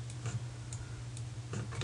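Typing on a computer keyboard while entering text in GIMP, a few quiet, scattered key clicks in small clusters over a faint steady hum.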